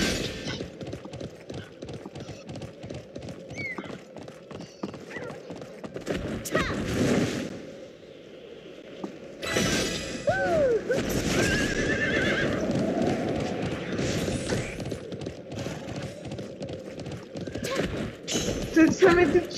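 A horse in a video game, its clip-clop hoofbeats running steadily up close, broken by loud neighs and whinnies, with someone speaking over it at times.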